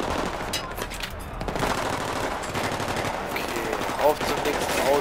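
Rapid bursts of Battlefield 3 gunfire crackle over a busy mix of engine noise and effects, dense and continuous throughout.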